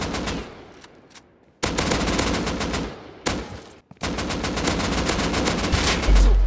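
Rapid AK rifle gunfire in the Rust video game, loud bursts of automatic fire in three stretches separated by brief gaps, the final burst sustained and dense.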